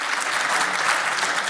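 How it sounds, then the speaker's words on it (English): Audience applause at an advanced manufacturing awards ceremony, a short burst of steady close clapping from many hands without any speech. "We can keep clapping."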